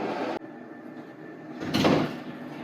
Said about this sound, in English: Love the pocket door.